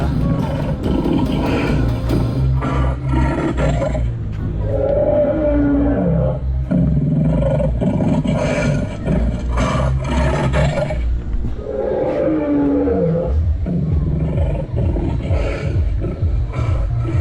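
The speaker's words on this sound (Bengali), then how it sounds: "ওয়াও, ডাইনোসরের ভয়ঙ্কর গর্জন আমরা শুনতে পাচ্ছি।" Loud, repeated roars from an animatronic dinosaur at the Magic Paradise amusement park in Kotbari, Comilla, in two long drawn-out bursts over constant background rumble, with no talk.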